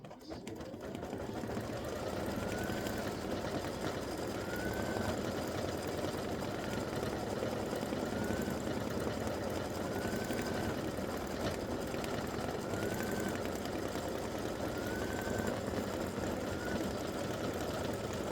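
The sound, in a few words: embroidery machine stitching around helmet with black thread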